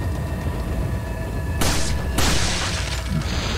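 Two heavy gunshots ring out in Resident Evil 4, the second about half a second after the first, each a loud broadband burst over a low droning background with a long ringing tail.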